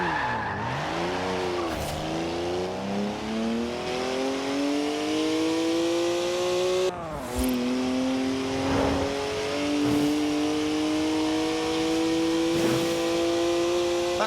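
A BMW 1M with a 3-litre twin-turbo straight-six engine of 335 horsepower in Forza Horizon 4, revving up through rising gears with brief drops at the shifts and a tire squeal, close and loud.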